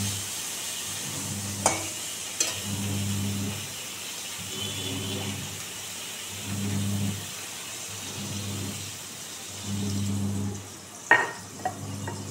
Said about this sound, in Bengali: বেগুনগুলোকে ভেজে নেবো আমি আগে, বেগুনটা ভেজে উঠিয়ে রাখবো।